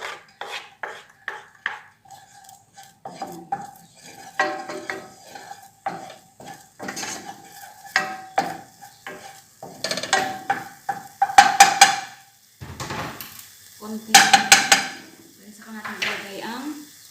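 Garlic goes into a pan for oil-free chicken adobo, bringing scraping spatula strokes, metal clinks and a soft sizzle in irregular bursts, with someone talking throughout.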